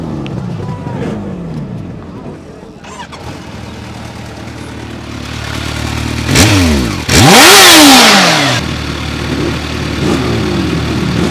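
A Kawasaki H2 motorcycle engine starts and runs, rising into a loud, close revving surge before settling back to a steady idle, with another bike idling nearby and people talking.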